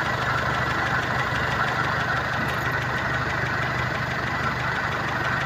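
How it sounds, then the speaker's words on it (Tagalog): A car engine idles steadily right after a valve clearance adjustment, a constant close hum with a faint, even mechanical ticking running through it and no speech. "pakinggan nyo maigi ngayon yung tunog ng makina ko"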